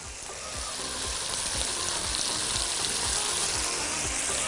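Potatoes dropped into a pot of sizzling carrots and vegetables for chicken couscous, a loud continuous sizzle with bubbling and repeated soft thumps of stirring, close by.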